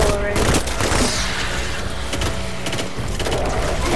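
Rapid gunfire from the video game Destiny 2, sharp bursts and booms layered over a dense game soundscape, with players talking over it.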